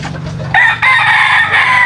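Pure Sweater gamefowl rooster crowing loudly and close, one sharp drawn-out crow following a brief cluck, with no talk.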